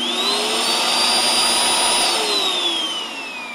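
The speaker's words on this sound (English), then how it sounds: "So the idea being is that, it's just a big blower." A big air blower feeding a sandblasting helmet, fitted with two air filters and set about 30 feet from the blasting work, gives off a loud, steady whining roar that holds throughout with no voices.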